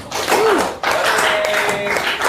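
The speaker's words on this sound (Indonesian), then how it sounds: "kita beri tepuk tangan untuk semuanya" A classroom of students applauds together during a teacher-training practice lesson, a dense, steady wash of clapping that fills the whole clip, briefly dipping near the middle before resuming, with faint voices and a squeak mixed in.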